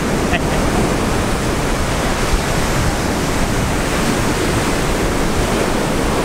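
Ocean surf at Pompano Beach, Florida, a loud, dense, continuous wash of breaking waves and wind with no pauses, filling the whole stretch.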